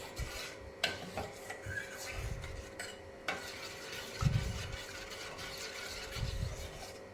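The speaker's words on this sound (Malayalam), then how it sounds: "നമ്മുടെ റാഗി മാൾട്ട് ആ പൊടിയിട്ട് ഞാൻ ഇങ്ങനെ പയ്യെ ഇളക്കിക്കൊണ്ടേയിരിക്കാം കേട്ടോ" A spoon slowly stirring ragi malt powder into heating milk in a pan, giving a soft, steady scraping and swishing with a few low scrapes against the pan bottom, close and quiet.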